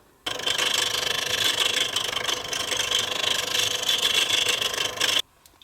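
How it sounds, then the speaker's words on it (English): A wooden toy steering wheel for a 1929 Ford stake bed truck model spins on a lathe pen mandrel as a tool makes light turning passes, a close, continuous scraping rasp over a motor whir that stops abruptly. "I am going to very carefully, with light passes, turn the steering wheel to round."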